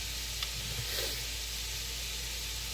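Soy sauce hits a hot pan while making General Tso chicken and vegetable lo mein, producing a loud, steady sizzle and hiss that continues without a break, with no talking.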